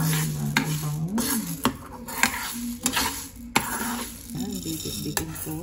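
Glutinous rice browning in a pan as it is stirred, with a soft sizzle under repeated sharp scrapes and clacks of a utensil against the pan, and a voice speaking briefly.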